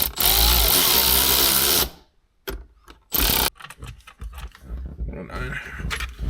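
A power tool removes 7mm bolts during a gauge install on a C6 Corvette, with a loud whirring burst that stops, then a short second spurt, followed by rattling tools and handling noises.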